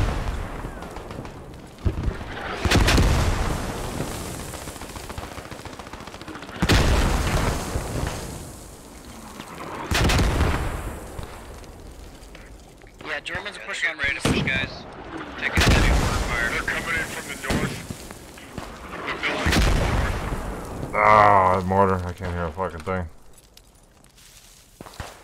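Mortar rounds from Post Scriptum land in a series of loud, deep booming blasts spread several seconds apart, with footsteps and voices talking between the impacts.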